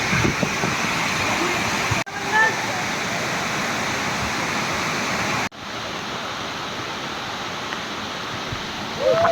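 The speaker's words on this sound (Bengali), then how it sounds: "কত সুন্দর একটা ঝর্ণা দেখা যাচ্ছে দেখুন" Khoiyachara waterfall in Sitakunda: a steady, broad roar of falling water close by, continuous and loud, with a few abrupt cuts where the level shifts slightly.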